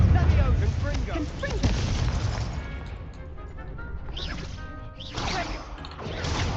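Confringo spell blasts in the Hogwarts game, heavy booming crashes and rumbling impacts in quick succession over continuous noisy combat, with a few sharper whooshing bursts toward the end.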